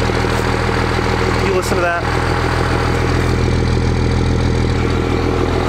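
A 24-valve Cummins diesel truck engine idles with a steady, deep, loud rumble that stays even throughout, a voice speaking briefly over it.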